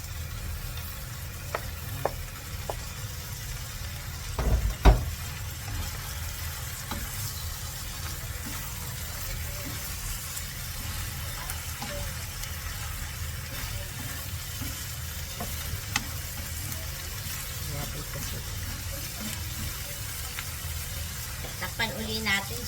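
Squid and shrimp simmering in a pan of coconut milk, a steady low sizzle and bubble running throughout with a few brief clinks and stirring knocks near the start; no talking.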